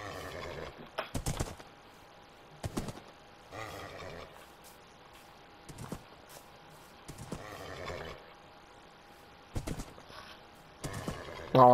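A Minecraft horse neighing and clopping in scattered short bursts at moderate volume, separated by quiet gaps, with no talk.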